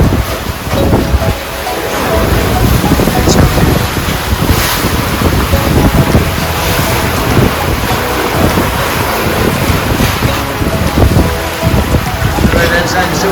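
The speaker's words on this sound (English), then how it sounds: "There's a fair amount of hull and bridge deck slapping" Waves slap against the hull and bridge deck of a small sailboat under way at sea in the Southern Indian Ocean, giving a constant churning wash with irregular thumps, all layered over loud, steady wind buffeting the microphone.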